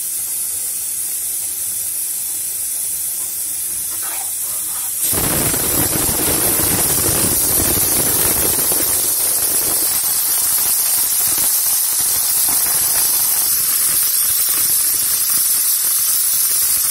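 Bora fritters drop into hot oil after a few quiet seconds, setting off a sudden loud, steady sizzling hiss that continues close and unbroken to the end.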